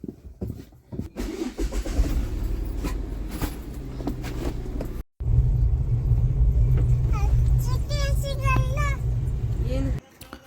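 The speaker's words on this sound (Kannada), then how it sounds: "ಏನೇ ಇದ್ರೂ ಗಾಡಿ ಸ್ಟಾರ್ಟ್ ಮಾಡೋದು" A car is started for a family road trip: engine starting, then a steady low rumble of the vehicle driving, with people talking over it and some melodic sound in the latter half.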